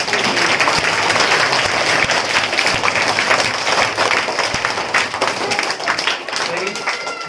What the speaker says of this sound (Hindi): बहुत अच्छे, तालियां बजाओ।